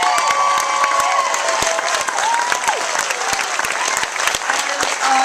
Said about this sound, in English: Please help me give you guys a round of applause.